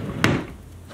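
A nursery dresser drawer slides open with a single quick wooden scrape and thump, close by, then quiet room tone.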